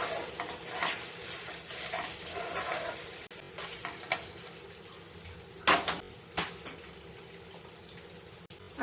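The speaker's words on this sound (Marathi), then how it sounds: "हे छान असं परतवून घेऊया आपण आधी" Chilli garlic tawa chicken is sautéed and stirred on a pan, a fairly quiet sizzle with repeated scraping strokes and a few louder spatula clanks in the second half, with no speech.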